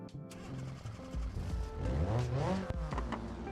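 Car engine from the BeamNG driving game revving and accelerating at low volume, a steady droning roar with rising pitch sweeps and a brief tire squeal, no talk.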